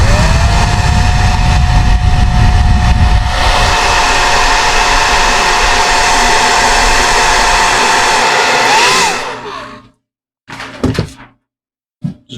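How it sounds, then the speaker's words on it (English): A heat gun runs on high heat, low speed to shrink heat shrink tubing over a solder point on a Sena SMH10 battery wire, a loud steady blowing whine for about nine seconds before cutting off, followed by a few brief knocks. "Place this heat shrink tubing over my solder point. Gently and carefully like so. And on high heat, low speed,"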